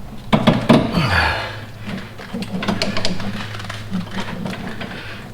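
A steel limiting plate is pried off a Hellcat supercharger cradle: sharp metallic knocks and a groaning creak, then a run of uneven scraping and rattling clicks as the plate works loose.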